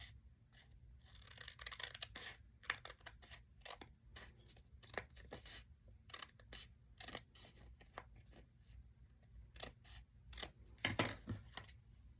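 Scissors trim the edge of a paper envelope, a run of short crisp snips and paper rustles coming close and irregular, some quick and clustered, with brief pauses between cuts and nobody speaking.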